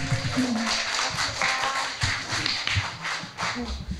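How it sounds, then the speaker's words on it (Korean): Scattered applause from the audience at a community residents' assembly follows a musical performance. Clapping is moderate and uneven, with some individual hand claps, and background voices murmur beneath it. "큰 박수로 다시 한 번 해주세요"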